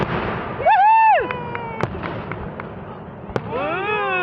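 Fireworks burst at Lime Rock race track, with a few sharp cracking bangs spread across a few seconds amid outdoor crowd noise, while people nearby whoop and shout excitedly.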